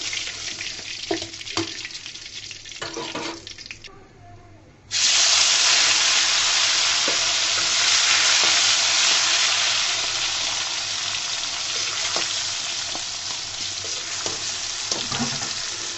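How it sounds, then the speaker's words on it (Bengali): Tomato and raw onion hit hot oil in a pan where fish was just fried, bursting into a loud, continuous sizzle after a few seconds of quieter stirring and clatter, with occasional utensil knocks. "টমেটো দিলাম, দিলাম কাঁচা পেঁয়াজ, দিয়ে সুন্দর করে ভেজে নিচ্ছি"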